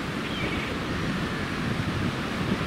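Sea waves and wind on an autumn beach at Palanga, a steady broadband wash of surf with wind rumble over the microphone, continuous and fairly close, with no talk.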